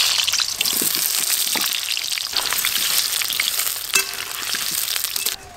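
Potatoes fry in hot mustard oil in a kadai, a dense, steady sizzle and crackle running throughout with a few sharper pops and spatters near the end.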